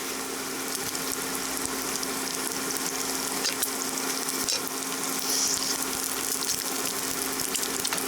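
A steady, loud sizzle of eggs frying in a pan for a breakfast biscuit, continuous broadband crackle throughout with no talking.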